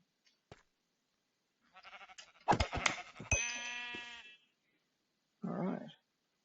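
Sheep in the video game Minecraft bleat in a few short, loud, close calls: a wavering bleat, then a longer drawn-out one, with a final shorter bleat after a pause.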